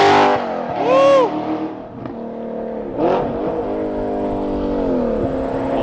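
Audi R8 V8 fitted with an Fi active exhaust, revving hard with a quick rising-and-falling blip, then a second surge that settles into a sustained loud engine drone, close by with little talk.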